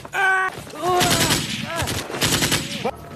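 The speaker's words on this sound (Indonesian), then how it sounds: "Suara ricuh membuat pasukan panik dan menembak secara membabi buta, hampir mengenai kawannya sendiri." Soldiers firing blindly in a panic, rapid bursts of gunfire ringing out loud and close, mixed with shouting voices and chaotic clatter over about three seconds.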